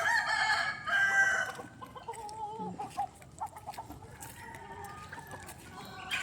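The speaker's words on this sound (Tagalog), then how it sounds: "Puro manok yan doon dyan sa loob." Chickens on a small farm cluck and a rooster crows near the start, with scattered clucks and bird calls continuing at moderate distance over faint background noise.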